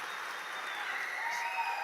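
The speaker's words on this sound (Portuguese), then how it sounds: "dê a Jesus um forte aplauso." Church congregation applauding during a worship service, a faint and steady wash of distant clapping with no distinct voices.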